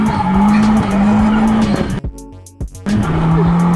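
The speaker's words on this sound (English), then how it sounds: "See the second gear shift." A 1000bhp VW Caddy Mk2 sleeper accelerates hard, its engine wailing loudly and close with tyres skidding, cutting out briefly for a gear shift before pulling again.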